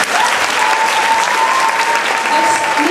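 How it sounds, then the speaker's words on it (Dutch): An audience at a children's choir event claps in a dense, steady burst of applause that fills the room, loud and continuous throughout. "Alvast een applaus."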